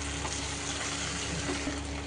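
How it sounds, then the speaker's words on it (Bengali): Food is stirred and fried in a home kitchen pan, giving a steady, close hiss of sizzling with faint scraping and no talking. "এই যে নাড়ানো হচ্ছে ভালো করে, নামানো দেখবো যে বেশ ভাজা ভাজাই হয়েছে"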